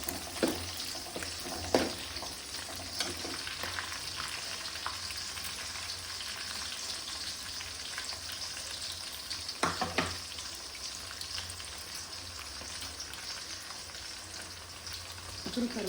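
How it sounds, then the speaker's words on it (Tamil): Crushed garlic sautés in a pan for okra kara kuzhambu, a steady near crackling sizzle throughout with occasional louder stirring scrapes and pops. "இதையும் நல்லா வதக்கி விடுங்க"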